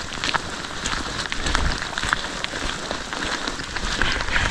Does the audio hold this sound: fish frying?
no